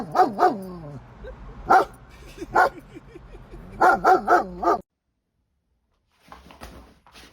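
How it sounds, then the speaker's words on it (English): A pet dog barks in a home, loud repeated barks in short bursts, then silence and faint background sound. "What are you barking at, bro?"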